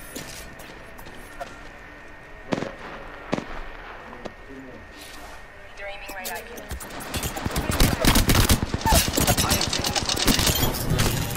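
Gunfire in Apex Legends: a few isolated shots early on, then dense rapid automatic bursts build to loud sustained firing, with a player's voice talking over parts of it.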